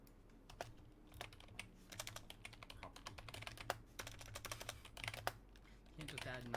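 Rapid typing on a computer keyboard, a dense run of sharp key clicks and clacks at close range with uneven rhythm, continuing for several seconds over a low background hum.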